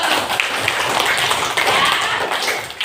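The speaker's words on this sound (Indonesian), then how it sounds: "Ibu kasih tepuk tangan untuk kita semua." A class of schoolchildren claps their hands together in a dense, steady patter of overlapping claps, close and lively, filling the room for a few seconds without speech.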